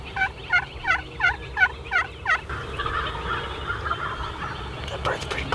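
A wild turkey gobbles close by in open country, several rapid rattling calls in a quick burst, then quieter outdoor ambience with faint rustling.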